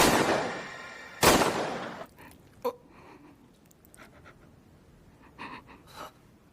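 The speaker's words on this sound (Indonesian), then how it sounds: "setelah melepaskan beberapa peluru pada psikopat" Pistol gunfire in a film scene: a loud burst with a sharp crack, followed by a second bang and a few quieter scattered noises and breaths.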